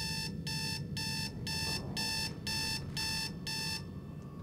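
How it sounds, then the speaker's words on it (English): An electronic alarm sounds in the video game Dead Space 2, eight rapid, evenly spaced high-pitched beeping bursts that stop abruptly, leaving a low rumbling background. "It's a friggin' alarm."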